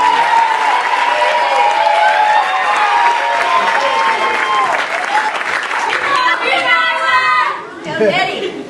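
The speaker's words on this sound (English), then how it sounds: "Clap when he comes to the mic." Audience clapping and chatter as a poet is welcomed to the stage at a poetry event, sustained applause under crowd voices, thinning toward the end as a voice comes forward.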